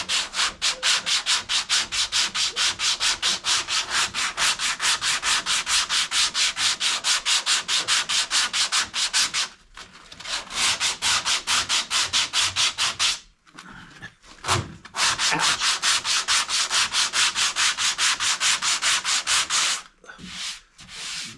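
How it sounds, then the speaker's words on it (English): A vehicle surface is sanded back by hand before priming and painting in a garage, steady rapid rubbing strokes running for long stretches, close and loud, with a few short pauses. "So everything has to be sanded."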